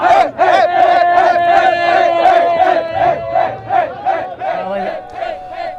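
A loud crowd of Dutch football fans at the World Cup chants and cheers in rhythmic bursts, voices rising together in a close, energetic roar that swells and dips.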